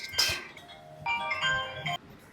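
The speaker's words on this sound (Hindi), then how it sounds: "फ़ोन आ रहा है" An incoming call sets off a phone ringtone, a short bright melodic phrase of clear electronic tones. It plays twice in quick succession against a quiet room.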